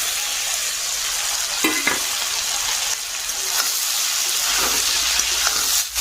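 Chopped tomato and potato frying in a hot pan, a steady loud sizzle and hiss broken by a few scraping stirs, close up with no talking.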